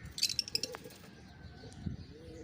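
Soft coos and a few faint chirps from breeding pigeons, including paralysed birds, sound nearby, with quiet rustling between them.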